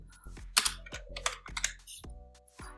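A computer keyboard is typed on in quick, uneven bursts of crisp clicks as a search term is entered in a code editor, close and dry with no speech.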